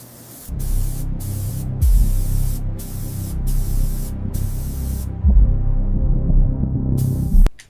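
Spray paint hisses onto a Formula 1 car in bursts of gentle coating, several steady passes separated by short pauses, close and fairly loud over a low background hum, with no voices.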